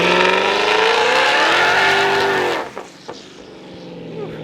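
A twin-turbo Ford Mustang launches with a launch controller on a street, its engine screaming loud and steady at high revs for over two seconds before cutting off abruptly, leaving a short crackle and a lower rumble.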